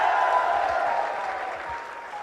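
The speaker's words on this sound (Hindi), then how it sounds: "जोरदार तालियों के साथ एक बार मेरा स्वागत कीजिएगा।" Loud applause from an audience at a CRPF event, dense steady clapping that fades slightly toward the end.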